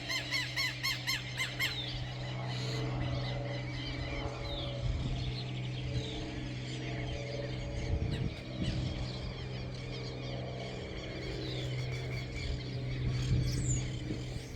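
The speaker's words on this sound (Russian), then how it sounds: "Птицы эти орут." Birds squeal and squawk on and off at a distance over a steady low hum in rural Argentina, their harsh calls repeating throughout.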